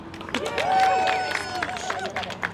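A crowd at a student hunger strike rally for Gaza claps and cheers, with applause and loud whoops swelling under crowd chatter for a couple of seconds.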